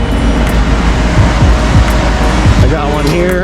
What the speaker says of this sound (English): So there goes one cement truck.